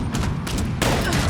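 Gatling gun firing rapidly in Fallout 76, modified for a faster fire rate; a dense, continuous stream of loud shots with a brief gap before the burst resumes heavier.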